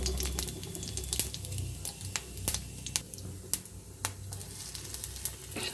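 Whole cumin and bay leaf sizzling in hot oil, a close, steady frying hiss punctuated by sharp crackling pops at irregular intervals, with no voices.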